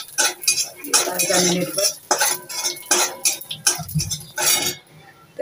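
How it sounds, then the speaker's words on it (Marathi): A metal spoon stirs and scrapes poppy seeds roasting in ghee in a pan, giving repeated clinking and scraping strokes in an irregular rhythm, close by, while someone speaks briefly. "एक छोटा चमचा तुपावरती जरा परतून घेऊया"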